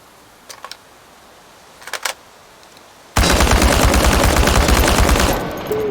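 Gunfire against enemies in Chernobylite: a few faint clicks from reloading, then a sudden loud burst of rapid automatic shots that hammer on steadily to the end.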